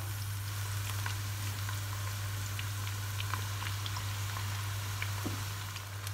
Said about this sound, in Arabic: هلا رح احط بصل ابيض افرجيكم شو الفرق بدرجه الشقار كيف بتكون احلى